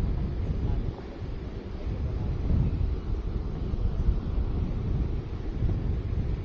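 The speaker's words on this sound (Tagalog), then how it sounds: "Lakas ng hangin." Strong wind blowing steadily at a moto camping spot in San Nicolas, Pangasinan, a dense low roar buffeting the microphone the whole time, with a hint of surf in the background.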